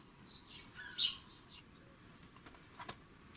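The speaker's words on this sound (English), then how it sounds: "Let's see if we can ask the little birdies on my recording here to stop their singing for a moment." Small birds chirping outdoors, faint tweets clustered early then a few sparse calls over quiet background noise.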